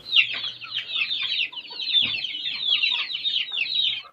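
A small flock of chickens clucks busily close by in a dense, continuous chatter of overlapping calls, with occasional low bumps behind them.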